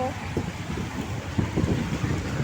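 Steady, gusty wind roars across the microphone with low rumbling buffeting, while faint voices murmur underneath.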